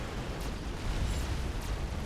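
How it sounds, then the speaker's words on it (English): A Bertha long-range plasma cannon shot lands in a video game, a loud, sustained rumbling blast filling the whole stretch with dense low roar and faint crackle, no voices. "that was basically a long-range plasma cannon shot. That was a Bertha shot."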